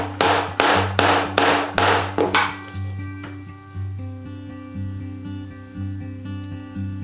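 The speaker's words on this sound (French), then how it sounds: "Je viens placer deux griffes dans les deux trous précédents et j'enchaîne jusqu'à la fin du travail." Pricking irons are hammered into a leather bushcraft pouch to punch stitching holes: five or six sharp, loud strikes in quick succession, then quieter taps over a low background hum.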